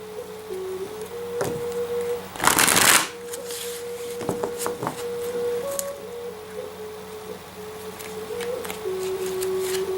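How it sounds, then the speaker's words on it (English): A deck of oracle cards is shuffled by hand a few times, with one loud riffling burst and scattered softer card flicks over a low steady hum in a quiet room. "Just going to shuffle here a couple times and then cut the deck."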